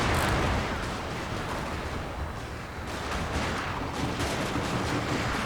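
Dense, continuous rumble of massed gunfire and artillery-like booms from gun towers in the strategy game Total War: Shogun 2, Fall of the Samurai, steady and loud throughout with no talk.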